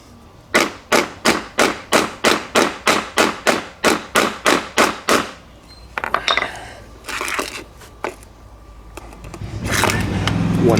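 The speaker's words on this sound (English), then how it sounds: "And then what I do is also destroy the motor as well." A hard disk drive's motor being smashed to destroy it: a rapid series of about fifteen sharp, evenly spaced metallic hammer blows, loud and close, followed by scattered clanks and scraping rattles of metal parts, and a rising clatter at the end.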